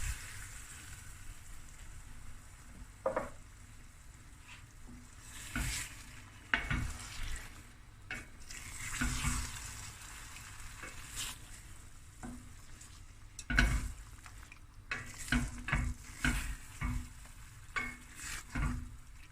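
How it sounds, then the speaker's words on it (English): Prawns simmering in 400 ml of coconut milk in a pan, with a soft bubbling sizzle beneath repeated scraping stirs and utensil clinks, close and fairly quiet. "I'm going to add 400 milliliters of coconut milk."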